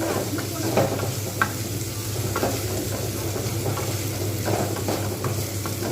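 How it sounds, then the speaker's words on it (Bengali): Sweet potato pieces fry with salt and turmeric in a pan, a loud close sizzle broken by repeated scraping and clattering as they are stirred, no voices. "এবার আমি এতে পরিমাণ মতো লবণ হলুদটা দিয়ে দেবো ভালোভাবে এটা কিন্তু আমি নাড়তে থাকবো"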